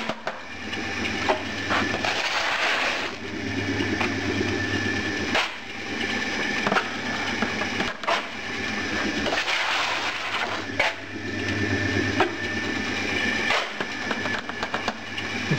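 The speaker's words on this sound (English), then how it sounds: "just use a plastic scoop, and then dump it into the bin" A running sand mixer muller rumbles and grinds steadily while sand is scooped out with a plastic scoop and dumped into a bin, giving periodic scraping and thudding sounds.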